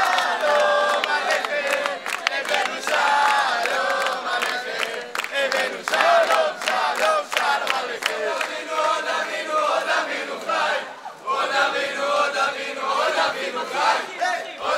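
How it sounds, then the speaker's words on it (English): Crowd greeting 250 Bnei Menashe immigrants from Manipur, northeast India, arriving in Israel, with applause, singing and dancing; a loud, continuous mass of voices and rhythmic clapping for about fifteen seconds. "welcomed by applause, singing, and dancing"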